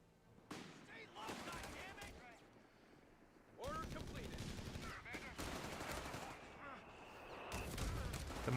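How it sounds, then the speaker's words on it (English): Mortar fire in a Company of Heroes 3 match: a string of sharp battlefield reports and thuds layered with other gunfire, loud and steady through most of the stretch, with voices talking underneath. "The mortar is just shipping away there."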